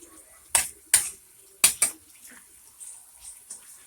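Utensils clink and scrape against a bowl while cumin and other ingredients are mixed for meatless potato çiğ köfte, a handful of sharp close knocks followed by softer scraping, with no talk.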